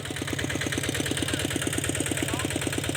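A walk-behind tractor engine idles close by with a steady, rapid thumping pulse and a constant rattling hum that holds even throughout.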